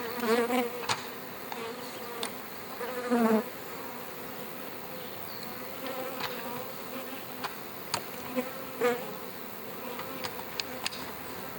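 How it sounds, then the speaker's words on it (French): Bees buzzing among flowering buckwheat in a field, several insects droning close and passing by, rising and fading over a continuous hum. "Les abeilles, dans le sarrasin,"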